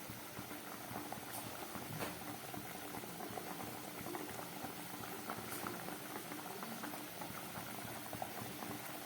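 Vegetarian pointed gourd korma boils steadily in a pot, a continuous bubbling and popping simmer at close range with faint intermittent clinks, no voices.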